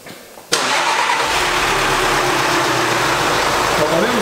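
A Volkswagen Amarok pickup fires up by remote start with a sudden loud catch, then settles into a steady, close idle rumble, with people talking in the background.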